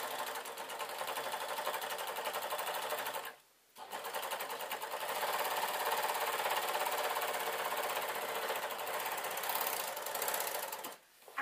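A serger stitches through denim in a steady, loud mechanical whir, pausing briefly partway through before running on, then stopping near the end.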